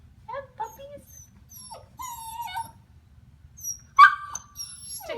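Small puppies trying to climb stairs for the first time whimper and whine in high, wavering cries, with a sharper yelp near the end, close by and fairly loud.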